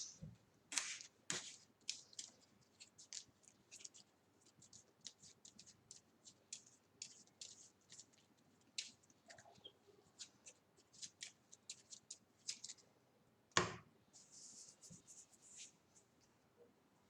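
Playing cards are shuffled and handled during a Marvel Champions game, with Captain Marvel facing Kang: light, quick papery riffles and taps repeat close by at an uneven pace, with a few sharper knocks in between.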